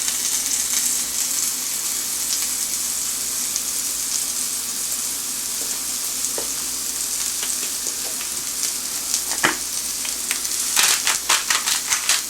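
Mushrooms fry with browned onions in a pan, a steady hissing sizzle throughout with a few sharper crackles and spatters toward the end, close and alone.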